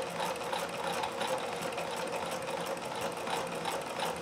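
A Singer sewing machine fitted with an embroidery attachment runs steadily at a fast, even whir, stitching small stitches with thick variegated denim-style thread, close and continuous with no talk.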